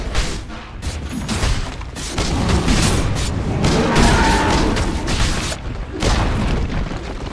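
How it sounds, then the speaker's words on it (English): Tower under attack in Dota 2: continuous heavy booming impacts and rumbling blasts from the game's combat, dense and loud throughout with a brief lull near the end, no speech. "Radiant's bottom tower is under attack."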